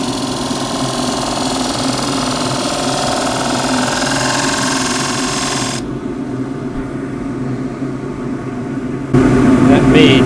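Wood lathe shear-scraping a fiddleback eucalypt bowl, a steady droning whir with a rough scraping texture that drops back to quieter motor hum partway through, then swells again near the end.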